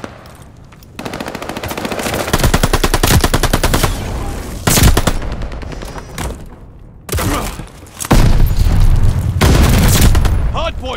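Rapid automatic gunfire rattles in repeated loud bursts at a contested hardpoint in a Call of Duty: Vanguard multiplayer match, with heavier booming shots and short pauses between volleys, while game voice callouts sound over the action.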